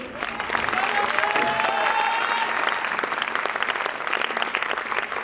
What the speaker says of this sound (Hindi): और इससे भी जबरदस्त तालियां मेरे जूनियरों के लिए